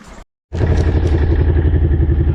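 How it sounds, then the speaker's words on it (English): Four-wheeler ATV engine warming up in deep snow, idling steadily with a loud, close, rhythmic putter after a short click and pause. "I gotta go out and move a bit of snow around here with the wheeler. Just warming it up here again."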